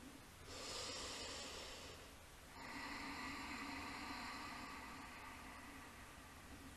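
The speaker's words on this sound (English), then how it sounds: "it can be really nice to use open mouth exhales." Slow open-mouth exhales during a yoga breathing exercise, two long soft breathy whooshes separated by a short pause, faint and close, no talking.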